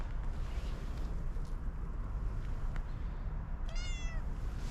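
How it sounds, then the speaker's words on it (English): A tortoiseshell cat gives one short, faint meow at night on a railway station platform, near the end, over a steady rumble of background noise. "it paid me a visit for a little while, and just heard its little meow"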